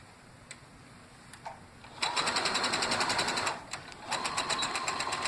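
A sewing machine back stitches a short length of quilt binding with a fast, steady, close mechanical whir. It stops briefly, then runs again, after a few faint clicks at the start.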